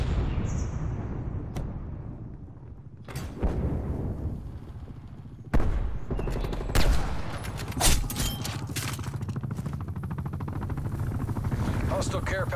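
Call of Duty: Black Ops Cold War gameplay with an enemy attack helicopter overhead, dense rattling bursts of automatic gunfire, and several heavy explosive blasts over a constant roar of battle.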